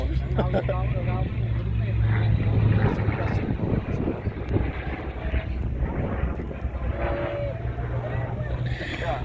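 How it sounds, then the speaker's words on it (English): A P-63 fighter plane flies a barrel roll at an air show, its engine a steady loud drone with wind rumble from start to finish, under crowd noise. "as Mark Allen brings this P-63 back into show center from show left"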